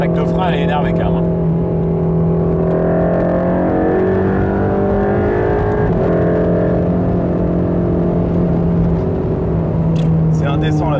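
A Mercedes-AMG GT Black Series engine pulls hard at high speed, a loud sustained roar heard from inside, with the pitch climbing and shifting through gears and voices talking over it.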